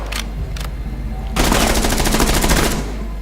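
Rapid automatic gunfire in the video game Rainbow Six Siege: two short bursts, then a long loud sustained stream of fire lasting over a second, with game ambience underneath.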